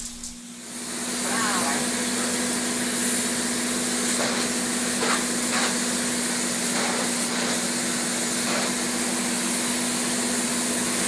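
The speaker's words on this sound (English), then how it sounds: "Gene Russell of Gene Russell Construction sprays insulation Thursday inside what will be the new home of the Early Police Department." Spray foam insulation being applied inside a building under construction for a new police station: a steady, loud rushing hiss with a constant mechanical hum underneath, continuing without break.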